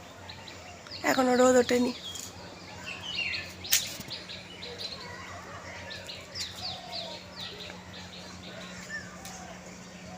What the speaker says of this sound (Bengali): কত সুন্দর পাখিরা কিচিরমিচির করছে